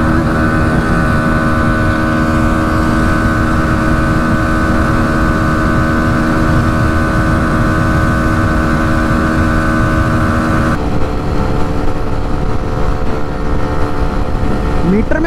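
A Bajaj Pulsar NS 125 and an Xtreme 125 drag race, engines roaring continuously at high revs, loud and close, with a slight shift in tone near the end.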